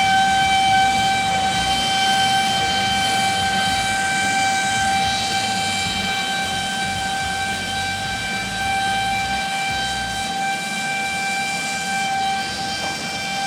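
A steady hiss of air rushing through a plumber's soldering torch tip, with several sustained whistling tones held throughout, no talking.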